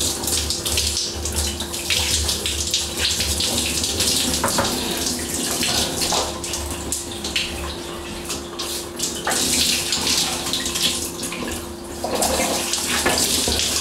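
Shower water runs in a steady, loud, close hiss and splash that continues without pause.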